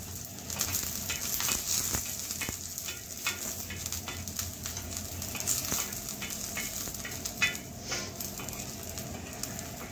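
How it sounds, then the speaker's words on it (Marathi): Garlic sautéing in a quarter spoon of oil on a hot tava over a low flame, a steady close sizzle with frequent scraping and tapping of a stirring spoon running throughout, no talk. "एक पाव चमचा तेल फक्त परतण्यापुरता"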